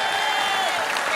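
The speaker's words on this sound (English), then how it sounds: "Give Elizabeth a round of applause for helping get us here." A crowd at a town hall gives a round of applause, dense steady clapping heard close and evenly loud throughout the short moment.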